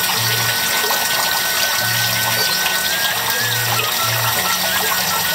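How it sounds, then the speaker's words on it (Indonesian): Water runs steadily from the outlet of an FRP water filter, a continuous close rush and trickle with a low pump-like hum pulsing underneath. "ini udah agak kecil debit air keluarnya"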